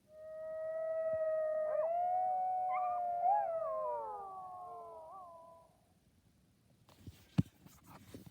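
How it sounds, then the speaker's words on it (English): A lone coyote howls in a long, wavering, high call that rises and falls for several seconds before trailing off, followed by a brief click-like noise. "This is a coyote."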